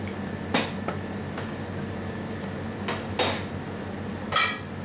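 Sharp ceramic clinks and knocks as a plate is picked up and set down for serving an oven-baked Mediterranean sea bream, several distinct bright clatters spaced irregularly over a quiet kitchen background.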